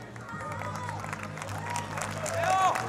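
Spectators applauding at an international women's archery match, a short burst of clapping and cheering that builds toward the end, with a commentator talking over it.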